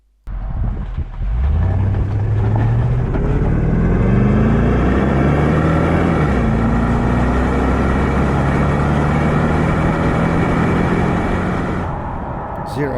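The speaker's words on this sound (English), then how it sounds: "I just love the sound of that V8." A 2013 Lexus LX 570 with a V8 engine accelerates hard from a standstill, a loud deep engine note climbing through rising revs with shifts before easing off at the end.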